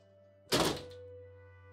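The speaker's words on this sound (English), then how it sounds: "The door." A door swings shut with a single solid thunk, close and fairly loud, followed by a low steady hum in a quiet room.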